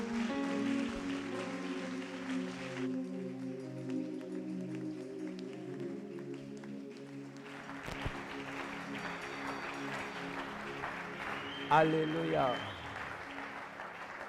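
A church congregation applauds and cheers during a service. Clapping runs beneath sustained music and raised voices, and a voice speaks over it.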